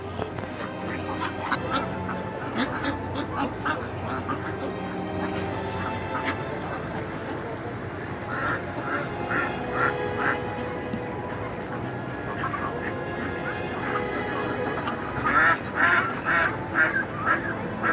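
Ducks or similar waterfowl quack repeatedly in loose, overlapping bursts, growing busier toward the end, against a steady busy outdoor background.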